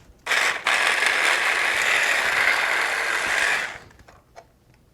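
Shrimp and fish being ground together in a food processor, a loud steady motor whir lasting about three seconds before it cuts off.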